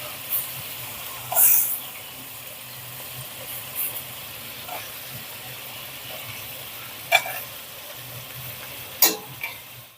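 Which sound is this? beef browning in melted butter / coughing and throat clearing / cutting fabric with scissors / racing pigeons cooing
beef browning in melted butter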